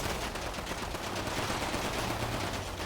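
Rapid, continuous gunfire from pedestrians shooting at a tank in a Minecraft game, a dense crackling rattle of many shots blending into a steady burst, fairly faint and without talk.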